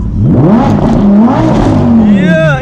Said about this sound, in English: They want me to rev it.